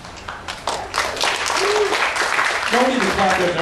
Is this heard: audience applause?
yes